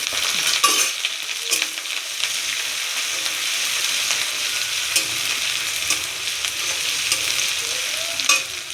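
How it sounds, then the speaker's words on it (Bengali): Chopped ginger sizzles in hot oil in a wok after garlic, with a steady loud frying hiss and occasional scraping stir clicks throughout, no talking. "এবার আদাটা দেব।"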